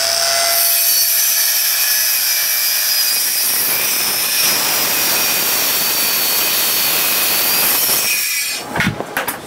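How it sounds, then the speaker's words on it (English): A power saw cuts through Bacote wood for a wooden backpack: a loud, steady, high-pitched whine of blade and wood that runs close up for about eight seconds, then cuts off into a few rattling knocks as the saw winds down. "Now we need to cut the Bacote wood."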